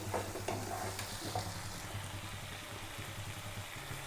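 Tomatoes are mashed and stirred into a sizzling masala in a pan for South Indian tomato rice, with steady frying hiss and repeated scraping strokes close by.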